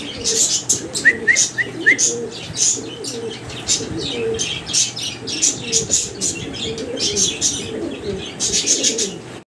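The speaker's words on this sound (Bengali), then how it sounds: "দেখেন চমৎকার এক জোড়া ভেলভেট শিল্ড, সাদা ভেলভেট শিল্ড।" A pair of white Velvet Shield pigeons gives soft, repeated low coos, mixed with bright chirps and some wing rustling. The birds sound close and keep up a steady, busy chatter throughout.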